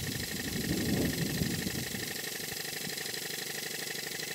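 A model steam engine, a 5A fed by a coal-fired Castle Steam V6 boiler, runs very fast with a dense, steady mechanical chatter and hiss, close and continuous throughout.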